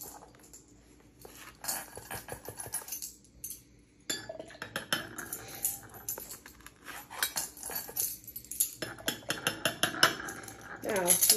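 A metal spoon stirs baking soda into a jar of water, giving a run of light, quick clinks and scrapes against the glass. The clinks come in irregular bursts, close up, with no voices.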